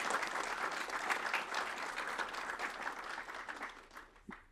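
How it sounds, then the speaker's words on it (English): Audience applause at an intern symposium, a dense steady clapping that fades slightly toward the end, with a brief voice at the close. "So give a round of applause for Sanaya."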